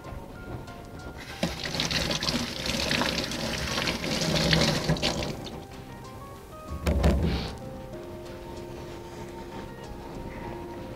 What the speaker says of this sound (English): So we're going to cut them in half like this, and I'm going to rinse them here